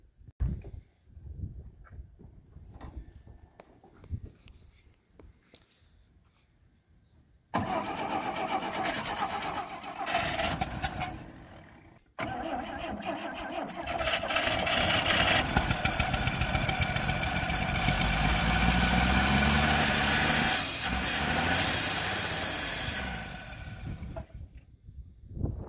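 The engine of a 1960 Rambler American, run on a little gas poured into the carburetor, turns over and putters, rising into a rough, loud run for several seconds after a quiet, clattering start.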